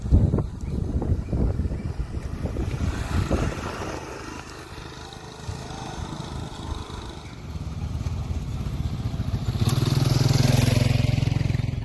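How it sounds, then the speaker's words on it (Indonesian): Motorcycles ride along a jogging track beside the Kali Cipinang reservoir, their engines droning steadily with several passes, growing louder near the end, mixed with wind noise on the microphone. "tetap bisa dilintasi oleh para pengendara motor seperti ini"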